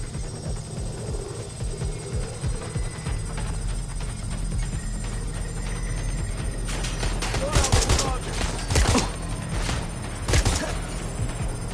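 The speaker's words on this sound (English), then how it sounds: "Shots fired!" Gunfire in the Watch Dogs Legion video game: rapid bursts of loud shots clustered toward the end, over a constant low rumble, with a voice speaking at times.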